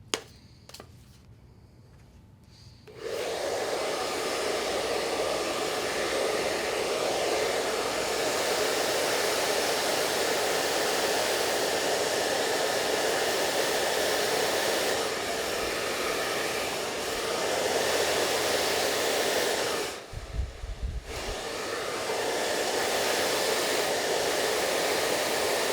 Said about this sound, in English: One of the things I would like for you to remember as you're blow drying is to let your tools do your work for you.